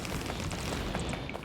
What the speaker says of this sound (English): I do love that massive explosion of cliff explosives.